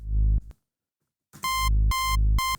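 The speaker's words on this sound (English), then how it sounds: "just a nice saw wave, because that's going to really give the cutting energy" Bright saw wave synth notes from the Serum plugin, a few sustained buzzy tones playing after a short low note and a brief gap, loud and alone.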